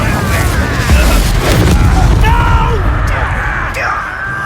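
Confringo blasting spell exploding in Hogwarts Legacy combat, heavy booms and crashes rolling over one another amid loud battle noise, with voices yelling and talking throughout.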